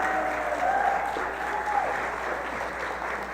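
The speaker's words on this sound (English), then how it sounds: "you want to give Annie a round of applause?" Steady audience applause at a church gathering, a full room clapping continuously at a moderate, even level with a faint voice briefly audible underneath.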